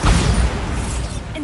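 A Bombarda blasting spell goes off in Hogwarts Legacy as a loud, deep booming burst that fades into a rumbling tail.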